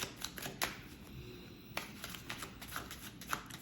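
Tarot cards shuffled and drawn in a quiet room, giving soft papery riffles with several sharp snaps and flicks spaced irregularly, close and fairly faint.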